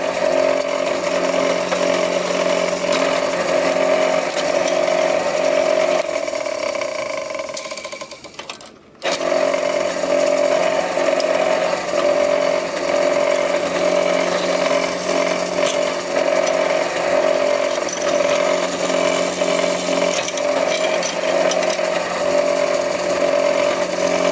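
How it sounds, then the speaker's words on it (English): A power drill whines loudly and steadily up close while countersinking screw holes in a wooden bottle cutting jig. The tone holds for several seconds, cuts out in a brief drop, then resumes and runs to the end, with no talking. "So it probably is just best practice to countersink these"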